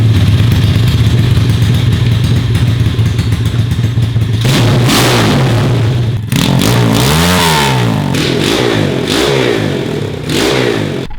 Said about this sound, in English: I'm gonna fire it up real quick and just listen to it,